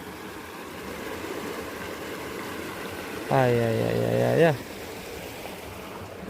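Clean stream water flowing steadily as a soft continuous rush, with a brief drawn-out vocal sound over it near the middle.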